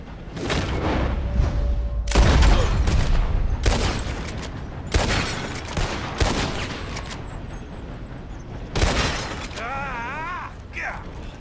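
Gunshots at bottles in the western game Red Dead Redemption 2, a series of sharp loud shots spaced roughly a second apart with echoing tails, followed by faint game sounds and brief voices.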